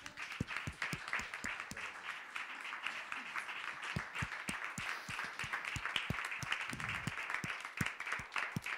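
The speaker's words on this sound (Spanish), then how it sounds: "¿Cómo no le vamos a dar un fortísimo aplauso?" An audience at a poetry reading applauds, a dense spread of individual claps carrying steadily from start to finish at moderate distance, with no voices.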